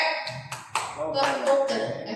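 A group performs the 'tepuk lope' clap chant, with sharp hand claps landing in a quick, regular rhythm while voices chant along between and over the beats, close and fairly loud.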